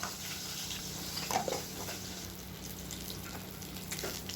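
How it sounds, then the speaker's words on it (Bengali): Katla fish fries in a pan with a faint, steady sizzling hiss that holds evenly throughout, low in level and with no talking. "তো আবার মাছটা ভেজে নিই ভালো করে।"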